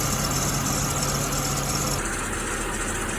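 A cold Mercedes C36 AMG engine idles close by with a steady mechanical hum and faint whine near the front, where a new water pump is suspected; the tone shifts slightly partway through.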